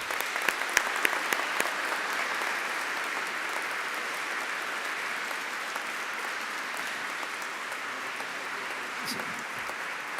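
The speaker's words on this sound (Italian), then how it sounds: "Meritano un applauso." Congregation applauding inside the Cathedral of Vittorio Veneto after Easter Sunday Mass, a steady, sustained wash of many hands clapping that fills the reverberant space for the whole stretch, with faint voices mixed in.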